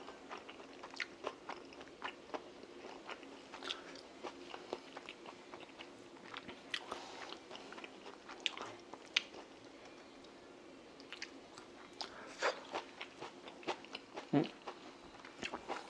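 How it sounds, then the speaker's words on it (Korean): Close, quiet chewing and biting while eating pizza with hot pepper, a steady run of soft crunchy and wet mouth sounds through the whole stretch with no talking. "아까 퍼온 핫페퍼도 먹고 그랬습니다"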